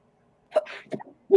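A single quick sneeze close to the microphone, short and sharp, followed by a brief voice right after.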